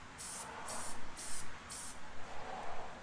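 Spray can misting the felt pad of a WW1 helmet liner, four short hissing bursts in steady succession, close and fairly quiet.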